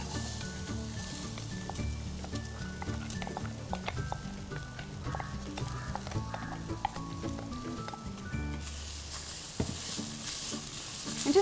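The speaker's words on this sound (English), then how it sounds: "And just roast this off, continuously stirring so it doesn't stick to the bottom of the pan until it changes color." Dal dry-roasting in a pan without oil is stirred continuously, with soft scraping and intermittent light clicks over a faint sizzle, quiet and close, and a brief louder rush near the end.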